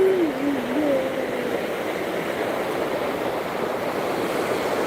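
Waves at a beach, the Pantai Wisata Islami tourist shore, wash in a steady, continuous roar of surf. A brief wavering tone briefly rises above the surf at the start.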